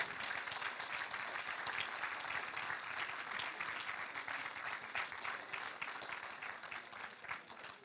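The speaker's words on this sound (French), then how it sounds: "Je vous laisse applaudir chaleureusement notre autrice sélectionnée." Sustained, warm applause from a public audience at a literary prize event in Lausanne honoring a selected author, a dense, steady wash of clapping that lasts throughout at moderate distance.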